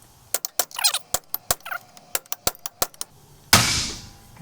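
A steel driver hammers bearing races into a Dana 30 axle hub in a CJ-7 restoration. A run of sharp metallic strikes comes in an uneven rhythm, close and loud, followed by a louder burst of noise.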